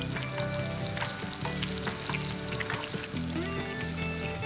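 Sliced onions fry in hot oil for prawn biryani, a steady close-up sizzle and crackle with faint stirring scrapes, no voices.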